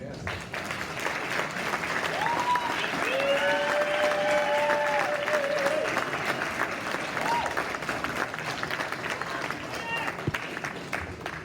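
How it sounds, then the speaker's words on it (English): An audience at a school red carpet gala gives the 8th graders a steady round of applause. Dense clapping runs throughout, mixed with cheers and voices from the crowd. "Let's give them a round of applause."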